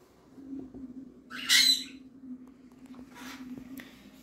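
Budgerigar chicks in a nest give one short, harsh squawk burst midway, followed by a few faint chirps over a low, steady background hum.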